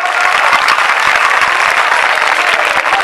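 Loud, sustained applause from a village crowd at a devotional bhajan gathering honoring a Maharaj, dense clapping filling the whole stretch without pause and no voices standing out.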